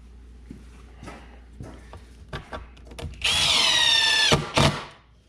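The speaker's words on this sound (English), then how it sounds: "having a little pre-drill action" Power drill boring pilot holes into old, indoor-stored lumber for shop shelves, with short taps and clatter giving way to a loud, sustained whine that stops and briefly restarts, close up with no talking.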